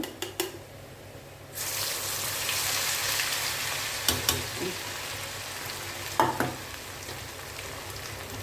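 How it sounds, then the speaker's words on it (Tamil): Cauliflower 65 fries in hot oil with a crackling, rain-like sizzle that swells after a quiet start. Intermittent clinks of a utensil against the pan break through. "நல்லா இது வெந்து வரணும் முறு முருன்னு வெந்து வரணும்"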